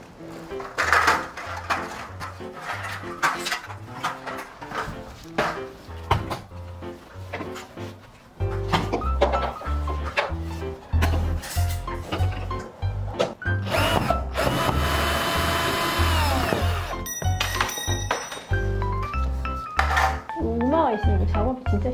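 Tool and handling noises from taking down window blinds during a home renovation, with repeated clatters, scrapes and a sustained whirring stretch midway. Music plays throughout.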